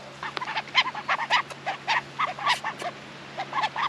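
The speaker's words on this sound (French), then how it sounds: "juste vous présenter les petits canards" Ducklings quacking repeatedly in short bursts, fairly close, over a steady low hum, with no talking.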